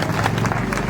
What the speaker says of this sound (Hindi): और सुजला कॉलेज के अध्यक्ष से जोरदार तालियां।